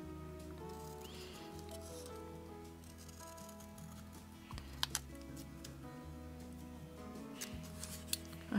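Scissors cut through letterpress paper in a run of crisp snips and soft slicing rasps, close and quiet, over a steady low background hum, with no voices.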